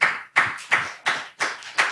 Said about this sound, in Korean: 그런 여러분에게 제가 박수 쳐드리고 싶어요